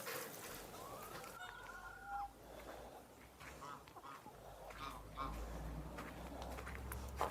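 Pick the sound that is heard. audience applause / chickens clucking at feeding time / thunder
chickens clucking at feeding time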